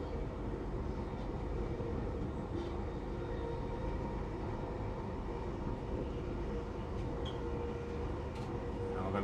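Train cab ride accelerating toward 90 over Worliston Viaduct between Crewe and Holyhead: a steady, dense rumble and roar of wheels and traction noise, constant and loud throughout with no voices.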